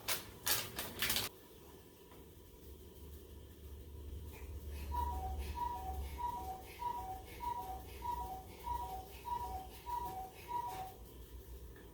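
A cuckoo clock calls from a home kitchen during dinner prep, its two-note cuckoo repeating in a steady rhythm about a dozen times at moderate distance, over a low background hum after a brief clatter.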